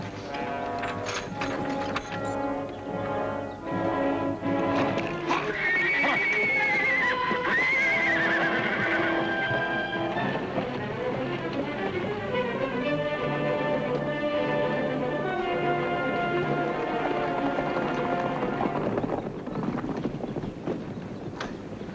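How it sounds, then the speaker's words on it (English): Horses unhitched from a wagon neigh in a long rising-and-falling whinny, while hooves clip-clop steadily underneath; a close, busy outdoor scene with no talking. "All right, Ed, unhook the horses."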